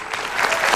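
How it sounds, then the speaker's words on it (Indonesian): Studio audience applause on an Indonesian comedy talk show, a steady wash of clapping at moderate loudness through the whole short moment. "Tepuk tangan dong kalau begitu."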